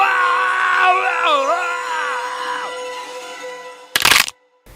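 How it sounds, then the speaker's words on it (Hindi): A man screams in pain after his leg is broken during a violent attack in a horror story, a long wavering cry filling most of the clip before a brief burst of noise and sudden silence. "एंड्रयू की टांग टूट गई और वह दर्द से चीखने लगा।"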